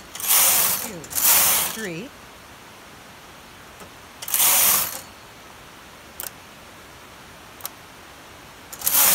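A knitting machine carriage knitting a cowl with a non-roll edge. Loud ratcheting mechanical passes come in bursts, separated by quiet pauses and faint clicks, with someone briefly speaking over the first pass.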